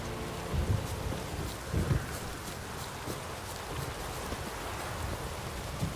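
A thunderstorm in the video game The Witcher 3: steady heavy rain and gusting wind with low thunder rumbles rolling underneath, continuous and fairly loud throughout.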